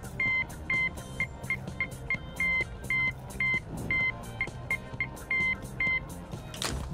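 Steady Morse code beeps of short and long tones play from a telephone in the Shaolin Shuffle video game level, in a rhythmic sequence over low game background sound.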